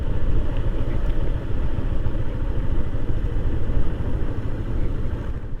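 A motorcycle engine idles nearby while parking in Adampan, Mannar, Sri Lanka, with a steady low rumble and throb, holding constant throughout with no talking.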